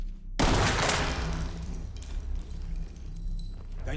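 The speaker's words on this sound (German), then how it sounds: "Das war ein Schuss." Gunfire in the tactical shooter Ready or Not, set in a hospital: a sharp, loud shot bursts in after a brief silence, then a dense rattling gunfire tail and echo ring on for several seconds.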